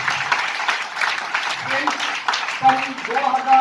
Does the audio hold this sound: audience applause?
yes